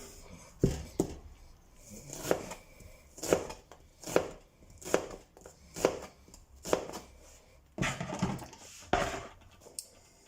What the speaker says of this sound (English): Now I'm going to slice some onion